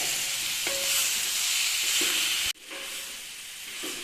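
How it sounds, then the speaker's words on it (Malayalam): Chicken in masala for a Chettinad-style dry roast sizzles steadily over a high flame, with stirring scrapes through the frying and a brief dip in the hiss midway. "ചിക്കൻ ഇട്ടതിന് ശേഷം ഹൈ ഫ്ലെയിമിൽ ഇട്ടിട്ട് നന്നായിട്ടൊരു മൂന്നാല് മിനിറ്റ് വഴറ്റി കൊടുക്കുക"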